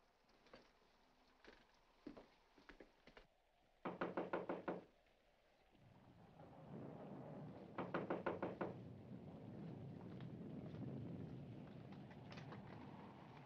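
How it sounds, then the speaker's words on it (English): Knocking at the front door of a house in a 1946 horror film: several quick bursts of firm raps, faint at first then louder, with rain and a rumbling storm swelling behind them. "there's someone at the front door"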